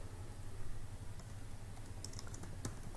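Keys clatter on a computer keyboard in quick, uneven bursts of typing, close and fairly soft over a low steady hum, with no one speaking.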